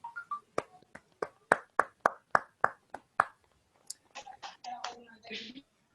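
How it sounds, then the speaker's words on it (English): Roughly a dozen sharp, evenly spaced claps ring out at a Toastmasters club meeting, loud and close, followed by a few soft murmured voices. "Please, can we give him a round of applause?"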